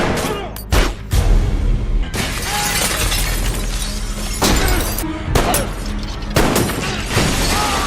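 Rapid gunfire and sharp blasts ring out amid a dense, chaotic action-scene din, with glass shattering and booming impacts throughout.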